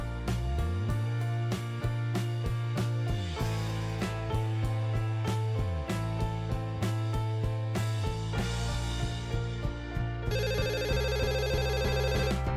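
A telephone ringtone plays in a bright repeating melodic pattern over a looping bass line, continuous and loud, then ends in a rapid trilling bell-like ring.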